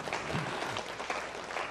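A church congregation claps together during a Sunday worship service, a dense, steady wash of applause held at an even level for under two seconds.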